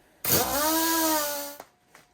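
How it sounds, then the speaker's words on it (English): A wire brush spun by a power tool scrubs brake caliper bolts during a front brake job on a 2013 Honda CR-V: a loud, steady whirring grind lasting over a second, then two short faint knocks. "I'll also run the wire brush on these bolts"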